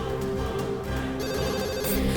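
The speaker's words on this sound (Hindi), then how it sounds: "Daddy please pick up the phone." A telephone rings on and on without being answered, a steady repeating electronic bell tone that fills the short moment on its own, fairly close.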